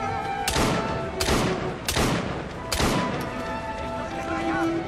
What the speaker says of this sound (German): Hör jetzt mal auf mich zu schießen.